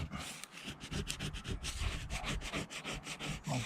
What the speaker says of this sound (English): it's scraping off nice and easy